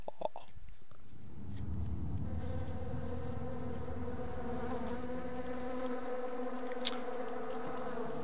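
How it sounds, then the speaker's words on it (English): Bees buzz steadily and close in The Secret World, in the game's zombie-infested coastal town of Kingsmouth, a dense insect drone holding throughout with a brief sharp tick near the end. "There's a lot of bees around here as well."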